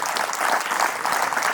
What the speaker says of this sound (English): Please give everyone involved in this day a round of applause.